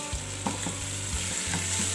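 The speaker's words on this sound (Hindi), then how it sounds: "मैं चिकन शामिल कर दूँगी ताकि ये प्याज अदरक लहसुन टमाटर के साथ खूब अच्छे तरीके से भून जाए" Chicken pieces fry in a pan with onion, ginger, garlic and tomato, giving a loud continuous sizzle broken by several stirring scrapes and clatters, with no talk.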